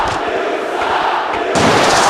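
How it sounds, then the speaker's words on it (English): Arena crowd at a CXWI wrestling show at Ford Field in Detroit, Michigan, a loud continuous roar of cheering and shouting that swells sharply near the end. "And listen to the crowd here."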